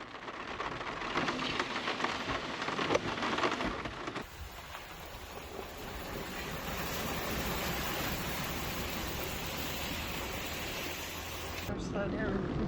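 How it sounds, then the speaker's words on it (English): Rain pours steadily in the Mark Twain National Forest in Missouri, a dense hiss with a rumble of thunder early on, heard from a vehicle while overlanding. "And just when we think the rain was about over"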